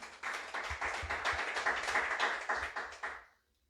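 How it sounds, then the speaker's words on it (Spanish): A church congregation breaks into loud rhythmic clapping during a Spanish-language sermon, a close burst of applause lasting about three seconds before stopping abruptly. "Dele fuerte aplauso al Señor, hermano."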